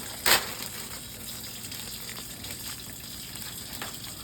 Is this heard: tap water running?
yes